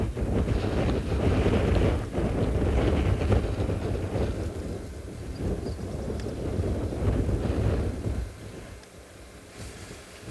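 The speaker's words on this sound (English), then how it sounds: "This wind is intense today." Strong wind buffets the microphone near open water on a South African safari, a loud rushing roar in gusts that eases toward the end, with no voices.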